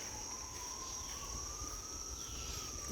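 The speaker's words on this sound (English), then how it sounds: "If you hear that, those are sirens." Sirens wail faintly in the distance outdoors, a thin slowly rising tone under a steady high chorus of crickets and low background rumble.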